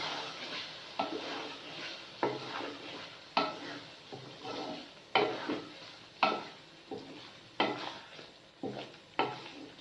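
Mash dal with milk cream being stirred in a pot, a spoon scraping in regular strokes roughly once a second over a faint simmer, close by.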